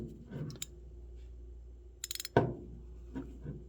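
A DURATECH 3/8 inch ratchet from a 90-tooth budget set clicks as it is worked back and forth, giving a short burst of quick, close mechanical ticks followed by a sharper snap amid quiet handling noise.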